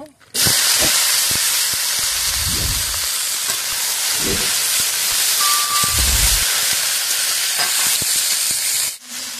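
Ivy gourd (kundru) tipped into hot tempering oil, bursting into a loud, sustained broadband sizzle right up close that runs steadily for most of the stretch, with faint low thumps of stirring underneath.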